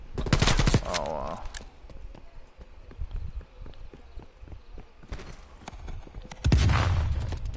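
Loud footsteps of a player character in the first-person shooter Call of Duty: Cold War, a rapid run of close thuds mixed with bursts of gunfire and game effects, with no talk.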